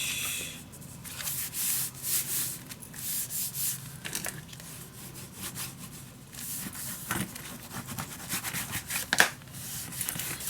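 Fingers burnish paper down onto a handmade vintage winter mini album, making close, steady dry rubbing and scraping strokes in a repeated back-and-forth rhythm with brief pauses and no talk.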